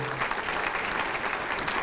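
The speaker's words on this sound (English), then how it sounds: "And give yourselves a hand, man, because you're doing a very good job" An audience at a 40th anniversary community event applauds, a brief burst of steady, dense clapping from many hands throughout.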